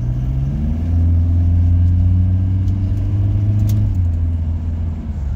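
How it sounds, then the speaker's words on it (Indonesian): A Toyota Innova Reborn diesel fitted with a new downpipe accelerates hard, its loud, close engine rumble rising steadily in pitch for several seconds before easing off, with no talking. "Ini saya rubah ke mode normal ya, kita coba akselerasi ya."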